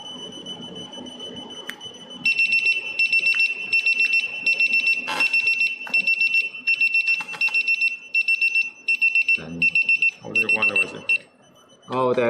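A TPMS tire pressure sensor sounds its fast-leakage alarm, a rapid run of sharp, high-pitched beep bursts repeating over several seconds, with voices heard briefly near the end.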